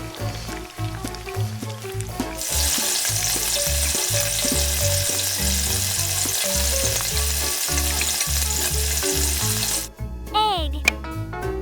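Tiny mini-kitchen cooking oil sizzling with frying food, a loud steady crackling hiss that cuts off abruptly near the end, preceded and followed by clinks and background music.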